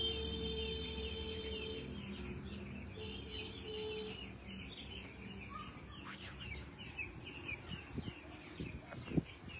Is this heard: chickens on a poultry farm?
yes